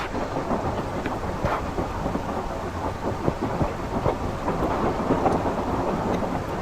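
Steady rain pours outdoors during a thunderstorm, a dense, constant hiss with low rumbling underneath and no voices.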